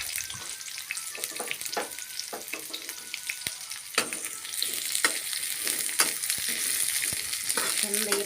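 Long-sliced onions fry in oil for gobi manchurian, a crackling sizzle broken by sharp clicks of a spatula stirring, growing denser and louder toward the end.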